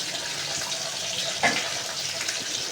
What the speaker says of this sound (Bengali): ডালে একটু জল দেবো